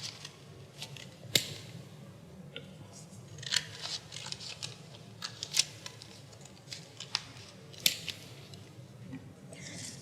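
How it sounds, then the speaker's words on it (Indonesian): Scissors cutting a folded sheet of paper: irregular faint snips and rustles spread over several seconds, close but quiet against a low background hum. "Kakak mau lipat kertas ini, kakak mau gunting."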